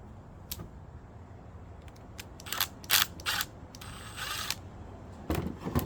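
An impact gun rattles in several short bursts while tightening parts on a 1953 Ford 4x4, the loudest run lasting about a second amid ratcheting mechanical clatter.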